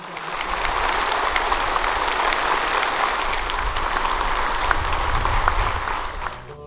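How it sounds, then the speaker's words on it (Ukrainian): A stadium crowd at a Polissya football match applauds in tribute to a deceased man, sustained loud clapping that swells in within the first second, holds steady for several seconds, then fades out near the end. "Його дружина попросила, щоб пам'ять Максима вшанували не хвилиною мовчання, а оплесками"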